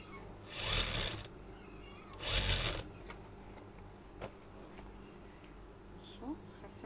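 A sewing machine stitching old bath mats and rugs into fur bath mats, two loud buzzing bursts of rapid needle hammering about a second each, followed by quieter clicks and faint background noise.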